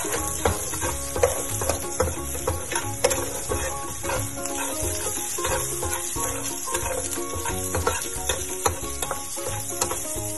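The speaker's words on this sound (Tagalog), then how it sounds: "Igisa natin ang sibuyas." Onions sautéing in oil for chicken asado, with a steady close sizzle broken by frequent clattering stirs and scrapes of a utensil against the pan.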